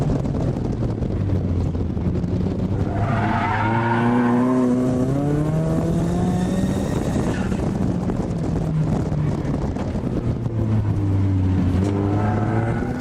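A car drifting on a street, engine revving up and down in long rising and falling sweeps with tire noise and wind buffeting, loud and close, no talk.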